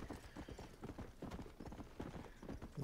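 Horse hooves clip-clop at a steady trotting rhythm in the Western video game Red Dead Redemption, faint but continuous and without talk.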